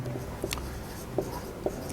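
Marker or chalk writing on a classroom board during a computer lesson, soft scratchy strokes with a few light taps, close and fairly quiet.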